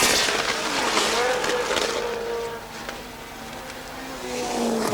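Formula One race cars in a 22-car field lapping the curving, newly extended Dijon circuit, engines whining and buzzing at a distance and rising and falling as they pass, under talk.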